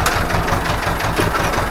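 An Ursus C-330M tractor engine spraying grass with herbicide runs loud and close with a steady low mechanical rumble, revving slightly, with no talk over it.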